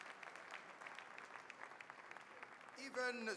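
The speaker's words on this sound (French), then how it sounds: "On va encore applaudir ces jeunes qui excellent dans l'a cappella" An audience claps for young a cappella singers at a live televised show, a dense steady round of applause before a voice starts speaking over it near the end.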